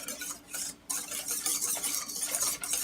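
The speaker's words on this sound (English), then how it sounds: "Then I'm going to just whisk that in gently" Whipped cream mixture being gently whisked by hand in a bowl, a close steady swishing and scraping with a soft rhythmic texture and a brief pause partway through.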